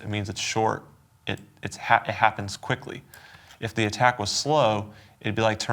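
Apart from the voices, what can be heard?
No distinct noise like a dog, phone or traffic.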